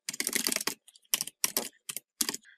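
Keys on a computer keyboard tapped in quick bursts of clicks with short pauses between, close and fairly quiet, no talking.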